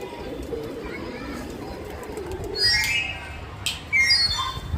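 Pigeons gathering as a new one lands, with squawks and chirpy calls rising over a steady low background, under a voice talking.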